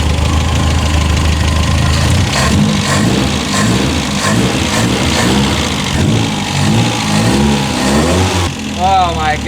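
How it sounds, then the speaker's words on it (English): Car engine revving hard with a large exhaust leak while prepping for a drift event, loud rough rumble and pulsing throughout, with people talking over it. "that's a huge exhaust leak"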